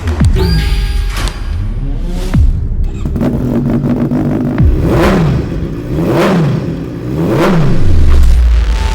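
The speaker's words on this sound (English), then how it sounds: "Josh Brookes, pushing the limit on the Suzuki 750." A Suzuki 750 race motorcycle prepared for the North West 200 road race revs hard in repeated rising and falling bursts, loud and close, with sharp throttle blips between sustained pulls.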